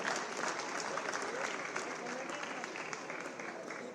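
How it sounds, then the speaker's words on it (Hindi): A crowd at a youth awards ceremony held by the Rajasthan chief minister applauds continuously in a dense, even roar while an announcer speaks over the clapping. "आप सभी की तालियां बजती रहनी चाहिए इन यूथ आइकन्स के लिए"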